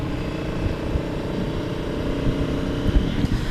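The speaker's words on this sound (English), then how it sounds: "And the exhaust note is quite pleasant as well." A 2018 Honda Africa Twin Adventure Sports motorcycle's exhaust burbles steadily at a low, throbbing pitch, close by and continuous, with slight swells in loudness.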